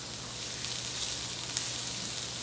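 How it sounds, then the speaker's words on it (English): Onions sizzle steadily in a hot skillet for a ground turkey curry, a continuous crackling hiss at moderate volume with no talking. "Nice sizzle."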